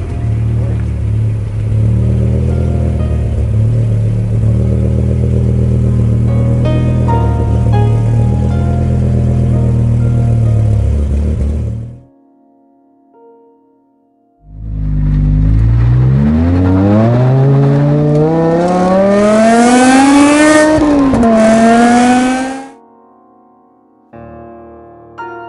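A 2008 BMW E60 M5 with its V10 idles loudly with a deep, even drone, cuts off, then restarts and revs in a rising, wailing sweep before dropping back, recorded close up.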